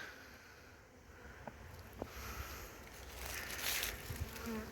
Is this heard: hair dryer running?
no